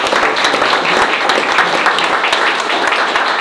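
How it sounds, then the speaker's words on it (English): A loud, dense round of applause from the audience at a Giants Live strongman athletes' meeting in Glasgow, sustained clapping throughout with no voices on top. "Let's give him a little round of applause"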